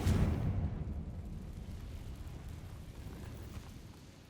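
Confringo explosive spell going off in the Hogwarts Legacy video game inside a catacomb: a loud, close, low boom that rolls and slowly fades into a long rumbling tail, with no voice over it.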